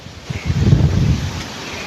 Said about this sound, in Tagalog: O, ayan, lakas ang hangin.